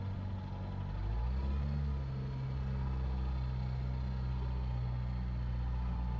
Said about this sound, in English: I've got the Viking 10 idling ahead, and we are not moving.